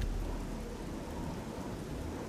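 Steady rain with thunder from a storm in the video game Oblivion: a soft, continuous hiss of rainfall under a low rumble of thunder, faint and without voices.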